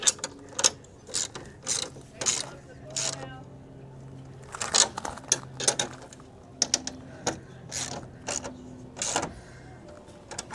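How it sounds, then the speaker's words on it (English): Nuts being tightened with an open-end wrench during a tow flap install on a Ford F350, heard as a series of short metallic clicks and scrapes in irregular bursts, with someone talking intermittently. "So let me get an open end wrench"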